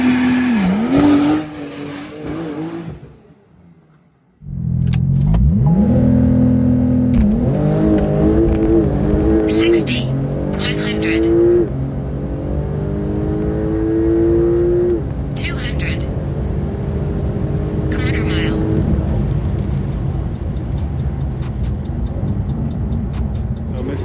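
A Porsche 911 Turbo S, a tuned 992 or 991.2, launches hard and pulls through several rising gears, loud and close, with sharp shift breaks and faint tyre noise after an initial lull.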